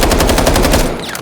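A non-silenced gun in a video game fires a rapid automatic burst of about a dozen loud, evenly spaced shots, then a short echoing tail.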